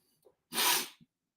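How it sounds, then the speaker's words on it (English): A single close, sharp sneeze after a faint breathy intake, with a small sniff right after and silence around it. "I hate those sneezes where it's coming and it doesn't come."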